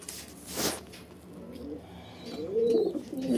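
Pigeons cooing in a loft where breeding pairs are kept, soft low coos swelling near the end over a faint background, with a brief sharp rustle early on.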